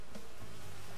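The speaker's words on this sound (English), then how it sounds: "Stupid freaking bees!" Bees buzzing in a Crash video game, a steady insect drone hovering close and continuous for a brief moment with no speech over it.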